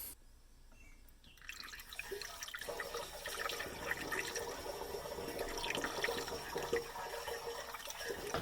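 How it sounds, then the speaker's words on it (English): Corrosion inhibitor poured through a funnel into a radiant floor water heater in a workshop garage: after a quiet start, a continuous trickling, gurgling stream of liquid runs steadily with small splashes and drips. "And now we are going to fill this up using this stuff. It's a corrosion inhibitor."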